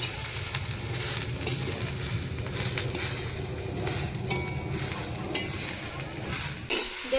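Jute greens frying with salt and turmeric sizzle steadily while being stirred, giving a continuous close hiss with occasional scraping clicks from the spatula.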